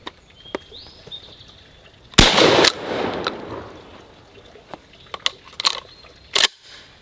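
A Savage Arms Stevens 320 12-gauge pump shotgun fires two loud, booming blasts several seconds apart, with sharp mechanical clicks and clacks from the action in between and no talking.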